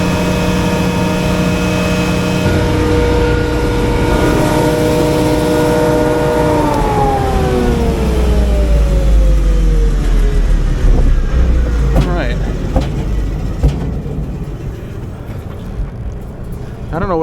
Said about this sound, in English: you heard the backfires, right?